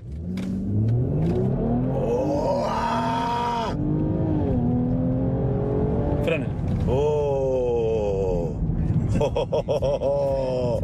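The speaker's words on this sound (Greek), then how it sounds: "Θα βάλει τον γκάζι στο πάτωμα, μετά σου φρένα θα πατήσει βία τα φρένα" A 2017 Mercedes GLE Coupe 43 AMG accelerates at full throttle from a standstill, its engine loud and rising through several gear changes, while people talk inside the cabin.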